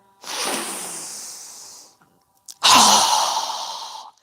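Deep yoga breathing heard up close: a long, soft airy breath, a brief pause, then a stronger, louder rushing breath, both hissy and unvoiced.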